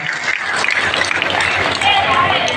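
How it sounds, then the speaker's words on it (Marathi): Loud, continuous applause from a large crowd at a civic felicitation gathering in Aurangabad, a dense wash of clapping holding steady throughout, with some voices mixed in. "एकदा जोरदार टाळ्या वाजून आपण त्यांचा आदर सन्मान करूया"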